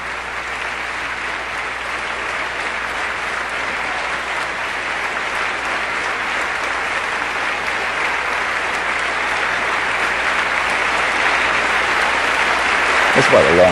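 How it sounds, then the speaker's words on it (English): Long, sustained applause fills the US Congress chamber for President Aquino, a dense even roar of clapping that swells slightly toward the end, with a commentator's voice faintly under it. "That's quite a long round of applause for"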